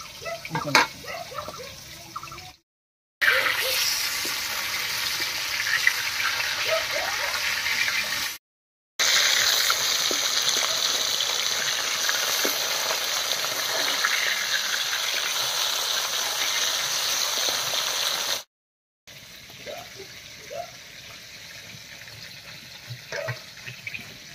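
Salted katla fish pieces frying in hot oil in a kadai, giving a steady, fairly loud sizzling hiss that runs in long stretches broken by brief silent cuts.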